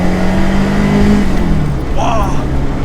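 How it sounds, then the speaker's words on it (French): A car engine mounted just behind the driver, heard from inside the cabin, drones steadily and loud, its tone sagging midway before a brief rising whine; a voice speaks over it. "À l'intérieur, on entend surtout le moteur qui est juste derrière moi là."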